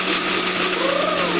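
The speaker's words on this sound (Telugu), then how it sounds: "కొంచెంగా వేసుకుని మిక్సీ పట్టాలి." A mixer grinder whirring steadily while grinding chickpeas (chole), a dense continuous motor drone with a faint high whine, close and fairly loud with no talk.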